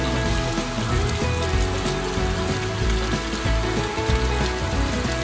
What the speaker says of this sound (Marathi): आता पाऊस येऊन जाऊ नये मगापासून नव्हता, आता आला अचानक परत